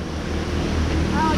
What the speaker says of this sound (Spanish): aquí cómo cae el agua de...